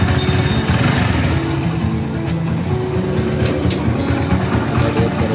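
A Hero Splendor motorcycle engine starts and idles steadily and loudly up close, a continuous low rumble with no talk over it.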